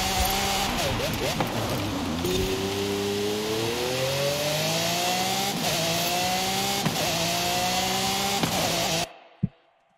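A car engine in the racing game Forza Horizon 5 drones loudly and continuously, its pitch climbing and dropping through gear changes at high speed, then cutting off abruptly near the end.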